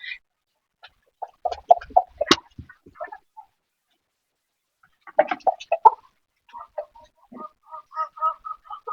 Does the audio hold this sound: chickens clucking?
yes